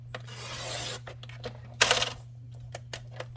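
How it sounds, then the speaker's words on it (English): A wider piece of paper card for a handmade accordion-fold birthday card is trimmed down, giving a short scraping rasp followed by a brief louder slicing burst and a few soft taps, close by with a steady low hum behind. "So I'm going to trim this wider piece down."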